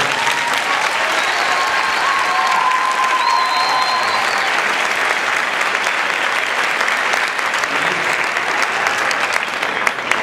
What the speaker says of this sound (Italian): vi prego di fare un grande applauso a Mauro che non sta parlando.